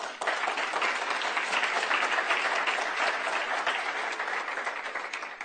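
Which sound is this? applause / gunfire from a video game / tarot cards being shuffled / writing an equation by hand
applause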